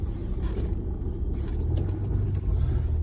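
A 1997 Ford Thunderbird LX being driven, its steady engine and road rumble filling the cabin continuously from start to finish, loud and close with no talk.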